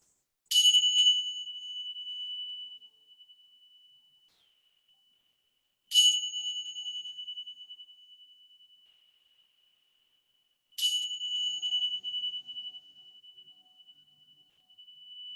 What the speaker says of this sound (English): let the sound of the bells guide you back to your physical body once again on your mat inside your space.